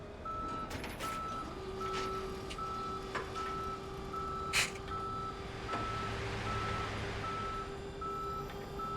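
Reversing beeps from a tow truck in a video game parking-enforcement scene, a steady run of evenly spaced electronic tones sounding over low engine hum, with no one talking.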